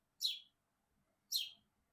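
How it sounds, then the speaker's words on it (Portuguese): A small bird on a balcony gives two short, high chirps about a second apart, clear and fairly close against a quiet background. "um passarinho na minha varanda, conversando aqui"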